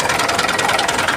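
A tractor engine runs close by with a steady, throbbing mechanical rumble that holds constant and loud throughout, with no voices.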